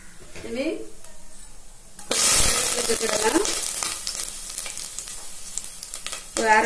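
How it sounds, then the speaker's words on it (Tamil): Mustard seeds hit hot oil and burst into a loud sizzle and crackle that keeps popping, with a voice speaking briefly before and after. "எண்ணெய் சூடாயிட்டு ஒரு ஸ்பூன் கடுகு சேர்த்துடணும்."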